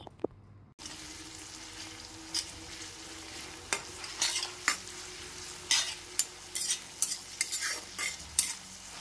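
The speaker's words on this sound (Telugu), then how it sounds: "లైట్ గోల్డెన్ కలర్ వచ్చేంత వరకు మనము లో ఫ్లేమ్లో పెట్టుకొని ఫ్రై చేసుకోవాలి." Onions with salt frying on a low flame for chicken liver curry, stirred with a utensil in irregular scraping bursts over a steady soft sizzle, close by and without talk.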